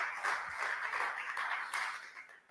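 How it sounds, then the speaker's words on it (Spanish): A church congregation claps together during a Spanish-language sermon, a soft, dense patter of many hands held at an even level for a couple of seconds, heard from some distance. "¿Cuántos aplauden su nombre?"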